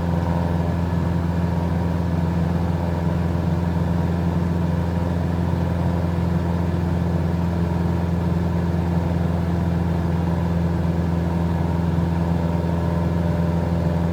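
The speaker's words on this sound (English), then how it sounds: "keep coming back on the mixture until we start to hear the engine running a little bit rough" A light aircraft's piston engine drones steadily and loudly in the cabin while the mixture is leaned until it runs slightly rough, a continuous low hum with fixed tones and no voices.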